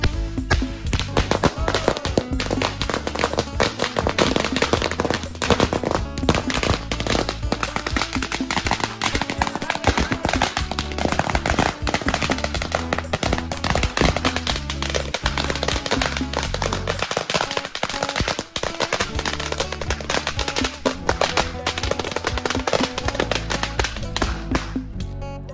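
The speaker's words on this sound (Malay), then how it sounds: "so hari ni kita nak bakar mercun" A long, dense string of firecrackers popping rapidly and loudly without pause, a continuous crackling barrage, set off at night during Hari Raya (1 Syawal) celebrations.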